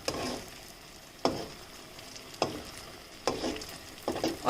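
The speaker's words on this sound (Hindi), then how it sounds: "और अब हम इसे गोल्डन ब्राउन होने तक फ्राई करेंगे।" Semolina and potato fingers sizzle in hot oil, with a constant low crackle. A spoon stirs and clinks against the pan at roughly one-second intervals, close up, with no talking.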